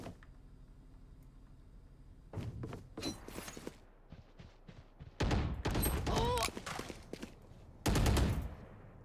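Gunfire in a first-person shooter video game comes in several loud bursts, including rapid automatic fire, with thuds and footsteps between them and a quiet stretch at the start.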